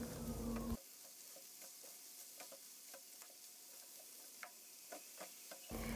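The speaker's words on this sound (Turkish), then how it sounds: "Ve kavurma işlemine devam ediyorum." Grated zucchini sautéing in a pan with onions and minced meat: a soft, constant sizzle with light spatula ticks and scrapes, framed by brief louder bursts at the start and end.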